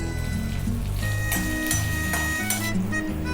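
Curry leaves, dried red chillies and ginger hitting hot tempering oil for a chickpea sundal, a soft sizzle and crackle under a steady background hum, close and continuous.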